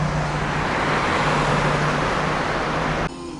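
Cars rush through the tunnel on Monaco's Formula One street circuit, a loud, steady broadband roar of road noise that drops abruptly to a quieter hum near the end.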